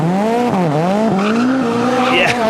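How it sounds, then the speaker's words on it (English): Rally car tyres squealing loudly on a slippery stage, a sustained wavering screech with the engine roaring close by throughout. "Big squeal of the tyre."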